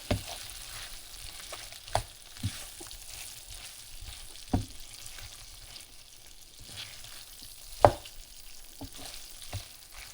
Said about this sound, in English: let's go ahead and add the chicken back that we cooked earlier. And what you want to do is stir that in and get that all coated as well.